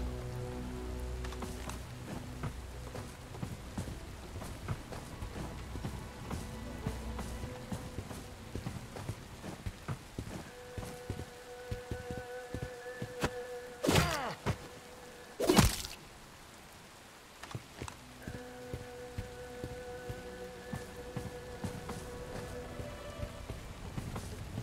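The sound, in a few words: rain falling in video game Bright Memory: Infinite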